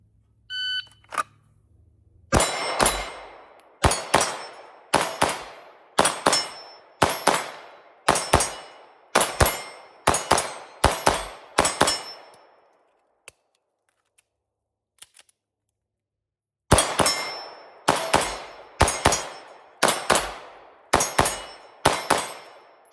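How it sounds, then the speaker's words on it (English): Gunshots from a Hayes Custom Guns pistol with a Cobra ported island barrel ringing off steel targets, sharp bright clangs in two rapid strings of about a dozen hits each, separated by a quiet pause. "move between the targets and get some good hits on steel"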